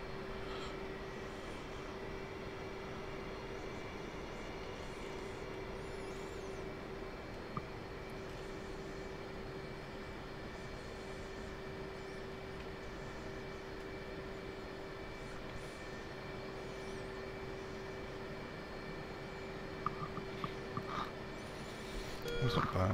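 A Hornet jet during carrier landing practice drones steadily and at a distance under a constant tonal engine hum, with a few faint clanks near the end and no talking.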